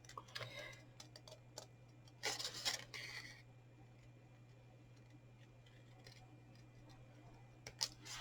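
Scissors snip around a card box shape with faint, close clicks and rustles, including a brief cluster of sharper cuts, over a low steady hum, with no voices.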